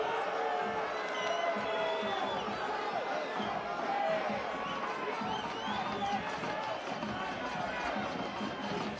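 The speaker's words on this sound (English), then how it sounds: "Crowd none too pleased." A soccer crowd at a Monterey Bay home match against the San Jose Earthquakes reacts with displeasure after a free kick, a sustained broad roar of grumbling fans running throughout beneath a commentator.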